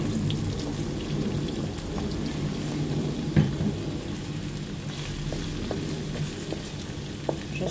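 Mixed vegetables stir-frying in a pan for Chinese fried rice, a continuous soft crackling sizzle with a few sharp clicks and one louder knock.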